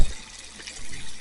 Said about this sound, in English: we're going to fill the water up to here